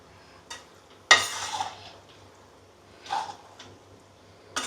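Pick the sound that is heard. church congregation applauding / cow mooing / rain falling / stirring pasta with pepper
stirring pasta with pepper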